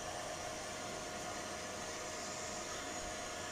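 A Frecon solar-powered borehole water pump motor runs steadily as a constant broadband whir with a faint tonal hum, unbroken and even, with no voices.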